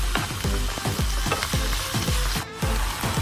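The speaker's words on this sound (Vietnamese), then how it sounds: "Mình xào mình cho nước mắm vào thì nó rất là thơm." Pork stir-fries with fish sauce in a pan, with a steady loud sizzle under quick, rhythmic spatula strokes, close up and with no talking.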